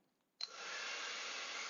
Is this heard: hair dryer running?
yes